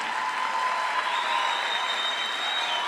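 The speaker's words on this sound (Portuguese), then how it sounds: "Por favor, uma salva de palmas para todas elas." Steady applause from a studio audience honouring the municipal first ladies, dense and even throughout with no speech.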